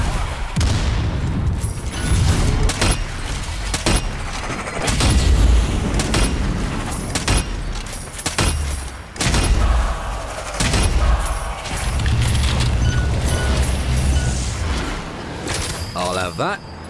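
Dynamite thrown in Strange Brigade sets off booming blasts among continuous gunfire and clatter, loud and near, with several heavy low thuds spread through the fight and voices talking over the action.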